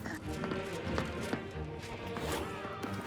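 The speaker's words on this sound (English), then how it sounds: "I hear their footsteps." Footsteps in the video game The Outer Worlds 2: repeated thudding steps at a quick uneven pace, moderately close, over a busy background bed of game sound.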